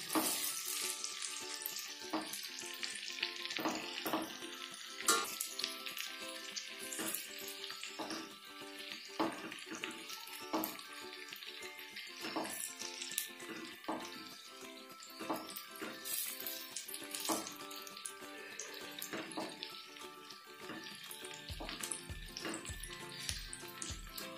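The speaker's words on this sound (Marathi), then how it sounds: "2 मिनिटात तेलामध्ये कलर चेंज होईपर्यंत वांगी परतायची." Stuffed eggplants for masala vangi sauté in oil with a soft, steady sizzle, broken by repeated spoon taps and scrapes against the pan. Several low thumps come near the end.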